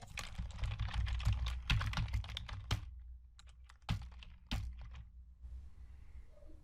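A file name is typed on a computer keyboard in a fast, dense flurry of close, clattery keystrokes, then slows to a few isolated, heavier key presses separated by quiet gaps.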